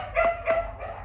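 Two quick, sharp barks from a dog at a Vietnamese home where several dogs are kept, close by and evenly spaced, followed by a softer yelp.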